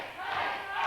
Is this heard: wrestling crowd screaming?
yes